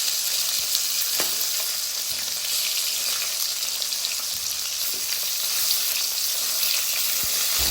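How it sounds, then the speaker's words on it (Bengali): Rohu fish sizzles steadily as it fries in hot oil in a pan, a dense continuous crackle with a few sharper pops, close and fairly loud, with no voices. "এখন আমি উল্টিয়ে অপর পাশে ভালোভাবে ভেজে নেব"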